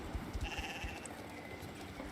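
Sheep bleat faintly in a video game, several short quavering calls in a row under a soft, steady background.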